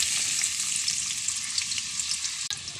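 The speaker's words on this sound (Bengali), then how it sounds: "গাজরগুলো এরপর ভেজে নেব।" Carrots frying in a pan for vegetable egg pasta, a loud, steady close-up sizzle with a brief stir near the end, no talk.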